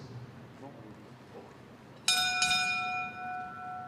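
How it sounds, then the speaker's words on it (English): At a heavyweight professional boxing event, the ring bell strikes twice in quick succession, bright and metallic, ringing on and decaying slowly above low crowd murmur and announcer talk. "at the sound of the bell"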